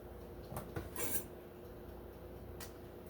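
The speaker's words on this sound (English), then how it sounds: "Just gonna put the lid on." A lid set onto a pot while cooking pork belly, heard as a couple of quiet metallic clinks and a brief rattle near one second, faint and close.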